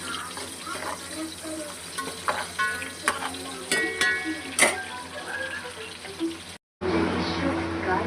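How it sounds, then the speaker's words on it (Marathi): Sliced onion and a bay leaf fry in hot oil, sizzling and crackling with scrapes and stirring clatter from a utensil, then a brief gap before the sizzle returns loudly. "त्यात टाकले तेजपत्ता आणि हा थोडासा उभा चिरलेला कांदा. आता हे थोडंसं ब्राऊन होईपर्यंत हे करायचं."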